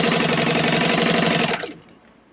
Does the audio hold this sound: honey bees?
no